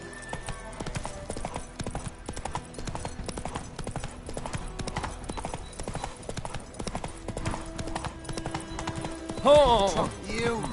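Hooves drum rapidly and continuously as Roach, the horse in The Witcher 3, gallops along, with game sounds layered over it and a brief voice or whinny-like sweep near the end.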